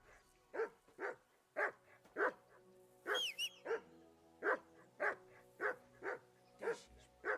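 A dog barks in a video game, a repeated series of about a dozen loud, evenly spaced barks with a brief whine or yip in the middle, heard alone without talk.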